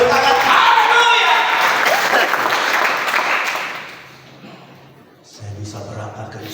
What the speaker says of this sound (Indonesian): Kita berikan tepuk tangan, haleluya.